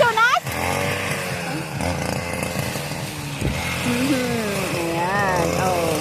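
A gas-powered grass cutter runs with a steady buzzing engine drone in a rural mountain setting, holding level throughout while people talk over it nearby.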